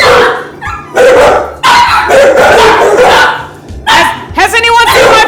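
Dogs bark and yip in loud bursts, with whimpers between, mixed with voices in a Taskmaster-style comedy challenge at home.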